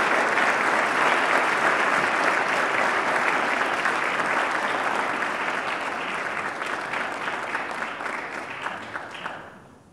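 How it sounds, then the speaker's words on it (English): Sustained audience applause at a 2012 award ceremony, welcoming an award recipient on stage; dense, steady clapping from a large crowd that fades away near the end. "would you please help me welcome, by way of your applause, Dr. Steve Allen, CEO of Nationwide Children's Hospital."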